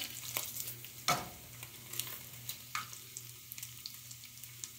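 Thick cut bacon fries in a pan with a soft, steady sizzle and a few sharp scrapes and clinks of stirring, close up and quiet, with no talk.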